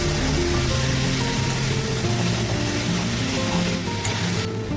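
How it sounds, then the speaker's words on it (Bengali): Chickpeas and boiled potatoes are stirred as they fry in spiced oil, giving a dense, continuous sizzle with soft stirring noise close by and no talk. "এই অবস্থায় সেদ্ধ করে রাখা আলুও দিয়ে দেবো। দিয়ে ভালো করে নেড়ে নেব।"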